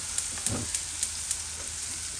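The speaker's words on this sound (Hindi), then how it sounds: "ये है मिर्चें, करेले, प्याज और टमाटो, ये हमने इकट्ठा इनको थोड़ी देर फ्राई करना है" Chillies, bitter gourd, onion and tomato sizzle together in oil, a steady close frying hiss broken by a regular run of light ticks about every quarter second.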